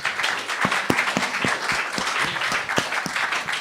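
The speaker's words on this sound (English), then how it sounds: "let's give a round of applause" Applause from an audience at a Bitcoin summit, a dense layer of clapping with a few louder nearby claps popping out in an irregular rhythm, steady and moderately loud over a short stretch.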